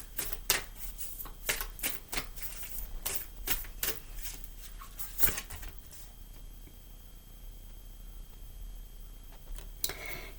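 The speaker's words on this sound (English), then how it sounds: "let's pull an Akashic Tarot card" Akashic Tarot cards are shuffled and drawn by hand, making a run of quick, close papery flicks and snaps. The riffling is busy at first, then thins to sparse soft handling and a last few flicks.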